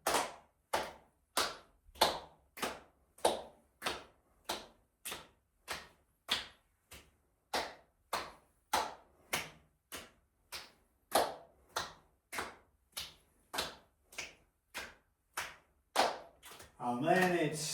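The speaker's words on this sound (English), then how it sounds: "And then clapping in front and behind." Hands clap in a steady, even rhythm during a qi gong exercise, alternating in front of and behind the body, about two dozen crisp close claps spaced roughly every two-thirds of a second with quiet gaps between.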